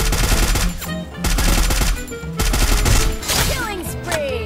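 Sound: gunfire in a video game battle

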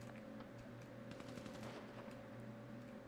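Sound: burst of gunfire fired into the air in a video game

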